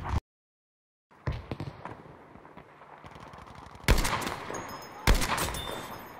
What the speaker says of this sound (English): Killed a guy with my sniper rifle.